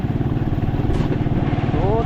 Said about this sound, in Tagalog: Ang motor.